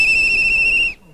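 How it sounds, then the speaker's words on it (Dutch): A single loud, steady, high-pitched whistle held for almost a second, then cut off sharply, during a street demonstration. "Wat mooi fluiten."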